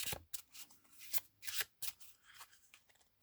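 Tarot cards being shuffled and drawn for a reading, heard as several quick, close riffling and sliding bursts separated by short pauses, faint and without talk.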